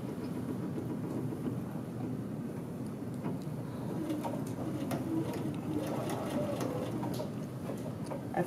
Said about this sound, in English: We are going to put this under the sewing machine, and that very first stitch is right where the collar meets the collar band